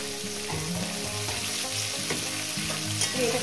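Vegetables frying in oil with turmeric, a loud close steady sizzle with occasional stirring taps, continuous throughout with no talk.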